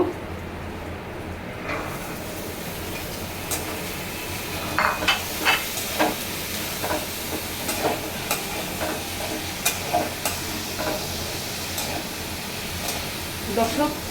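Chickpeas fry in a pan with a constant hiss of sizzling oil, broken by occasional light taps and scrapes of stirring, heard up close.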